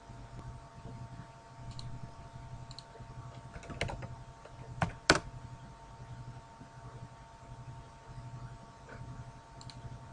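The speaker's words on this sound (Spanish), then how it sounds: "perdonadme cuando oís que estoy tecleando o haciendo algo y no lo veis en pantalla" Quiet clicking of a computer keyboard being typed on, scattered soft keystrokes with a short louder burst of taps in the middle, heard faintly over a low steady electrical hum with no speech.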